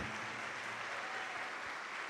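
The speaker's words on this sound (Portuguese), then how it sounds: "vamos aplaudir ao Senhor Jesus por cada vida que está chegando" A church congregation claps during a service, a faint, distant, continuous patter of many hands spread evenly across the whole stretch.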